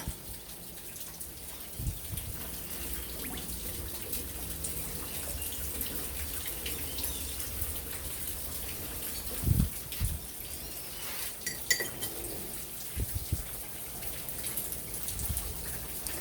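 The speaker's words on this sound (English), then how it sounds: "I'm putting the parts in acetone right now. And shake it off." Small parts from a 1973 Moto Guzzi motorcycle slosh and rattle faintly as they are shaken in a container of acetone, a soft liquid swishing with occasional light clinks over quiet background hiss.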